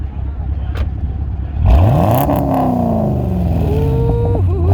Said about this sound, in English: Tell him to hit the throttle on it once.